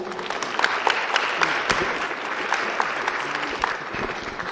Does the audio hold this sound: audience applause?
yes